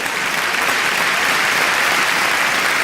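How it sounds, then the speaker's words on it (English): Dancers at a gala receive loud, dense applause from an audience, an even wash of clapping that holds steady for the whole stretch with no voices rising above it. "so we applaud them all"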